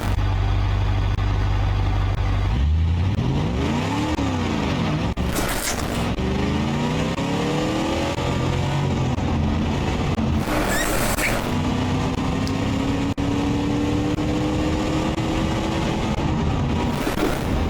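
Simulated second-generation SE four-wheel-drive car with a 4.1-liter inline engine in BeamNG.drive, idling and then revving repeatedly with rising and falling pitch, loud and close, alone without talk.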